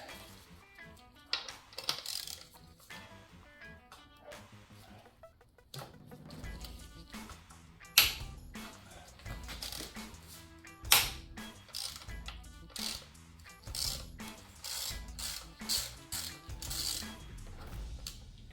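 A ratchet wrench loosens the clip-on handlebar bolt on a Ducati Panigale V4 with quick, irregular clicking bursts and metallic ticks, some louder clacks, close up and fairly quiet, with no talking.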